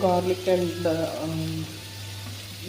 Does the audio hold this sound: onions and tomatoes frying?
yes